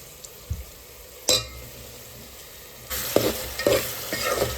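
Tomato drops into a hot pan with garlic and fries with a steady sizzle, punctuated by scraping stirs and a few clinks of a utensil against the pan, growing busier toward the end.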